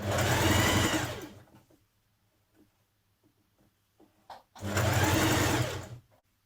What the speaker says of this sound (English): Now stitch down your neck binding. Now you can do this by hand or by machine. I'm doing mine on the machine